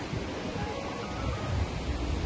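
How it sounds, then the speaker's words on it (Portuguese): Cold wind blows steadily at a roadside truck stop, giving a continuous broadband rush with some microphone buffeting and no voices. "Nossa, mas tá frio, olha o vento."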